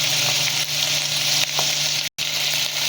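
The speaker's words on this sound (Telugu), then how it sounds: "బాగా ఆయిల్లో ఇలా వేగాలి" Mushroom curry masala with turmeric sizzles steadily in hot oil, a continuous bright frying hiss with faint stirring, briefly cutting out for a moment near the end.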